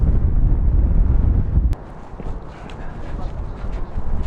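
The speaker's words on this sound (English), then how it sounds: "As you can hear, it's super windy up here" Steady wind rumbles and buffets close to the microphone on a hilltop in Wellington, heaviest at first and then a little lighter, with faint scattered sounds behind it.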